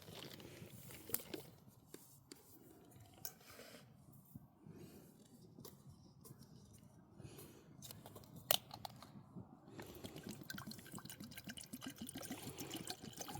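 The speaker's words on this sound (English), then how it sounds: "So first thing we want to do is boil some water for tonight." Water pours and splashes into a pot for boiling 500 ml on a Trangia stove at a woodland wild camp, a steady close trickle with small knocks and drips running through the whole stretch.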